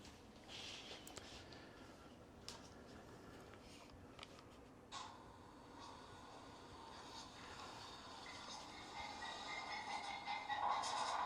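A small Rapido model diesel locomotive rumbles steadily along its track, a continuous mechanical whir with occasional clicks, growing slightly louder toward the end.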